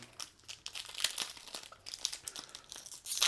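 A Disney Lorcana trading card pack being torn open and split down the back: steady close crinkling and crackling of foil wrapper, with small tearing bursts throughout.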